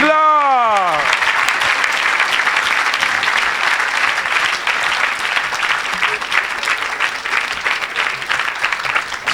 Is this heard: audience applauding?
yes